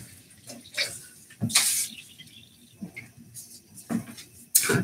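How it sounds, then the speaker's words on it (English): Hands being rinsed under running tap water after using a foaming sugar scrub, heard as several separate splashy gushes and trickles of varying loudness, close by. "Oh, shoot, I've rinsed my hands clean."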